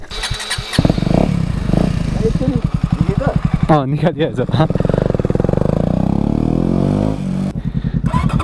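Motorcycle with its stock silencer removed starts and revs hard, loud and close, the raw exhaust rising and falling through several throttle blips while people talk over it.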